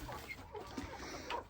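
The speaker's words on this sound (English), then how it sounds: "Big old rooster in there" A big old rooster clucks in short, quiet bursts among guinea fowl and other poultry on a farm, faint, with light background noise.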